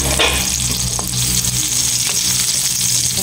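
Onion and garlic sautéing in an old-style wok, a loud continuous frying sizzle with stirring scrapes, close and dense.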